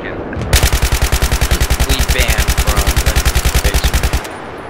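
Sustained rapid automatic gunfire in the video game Battlefield 3, a loud, steady burst of evenly spaced shots lasting several seconds before stopping abruptly.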